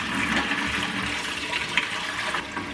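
Warm water runs over cooked rice in a steady, close, continuous rush with no pauses and no talking.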